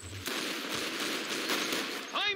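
Rapid bursts of gunfire from a first-person shooter video game, dense and continuous, with a voice speaking underneath.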